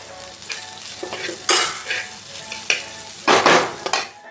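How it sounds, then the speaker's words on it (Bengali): Onions and chopped green chillies sizzle in a hot pan while a utensil stirs and scrapes in short bursts, growing louder at moments, with no voices. "এখন এগুলিকে আমরা একটু ভেজে নিই একটু ভাজা বানিয়ে নিই"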